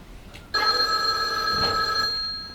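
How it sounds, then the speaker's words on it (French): A mobile phone ringtone goes off abruptly in the middle of a children's end-of-year theatre show, loud and sustained with bright electronic ringing tones, sounding alone with no voices over it. "Qui a oublié d'éteindre son téléphone portable?"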